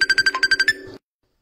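A telephone rings loudly and close by in a rapid electronic trill of about eight quick pulses. It cuts off abruptly after about a second, leaving silence.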